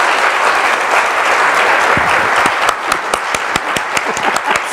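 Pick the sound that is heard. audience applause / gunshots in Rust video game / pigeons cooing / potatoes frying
audience applause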